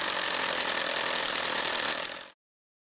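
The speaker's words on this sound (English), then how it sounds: "It can drill holes in resin and wood materials up to 30 millimeters thick." A Miyanaga Poly-clic core bit drills through resin and wood, giving a loud, steady, close whine that holds for about two seconds and then stops abruptly.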